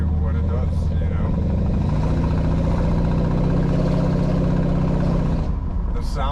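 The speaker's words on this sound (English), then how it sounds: "That V8, that gurgle that it has coming out of the side pipes" A 1964 Chevrolet Impala SS with a swapped 350 V8 rumbles steadily through side pipes, a loud, close, continuous low gurgle with a slight rise in the middle; no talk over it.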